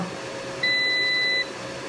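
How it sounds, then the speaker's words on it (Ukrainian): A Volt Polska Sinus Pro Ultra 6000 hybrid inverter gives a steady electronic beep tone, about three-quarters of a second long, once on startup against a quiet background hum. "Зразу пищить неймовірно"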